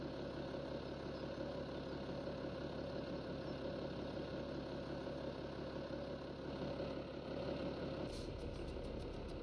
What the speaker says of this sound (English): Turn the engine off for a second, because that's loud.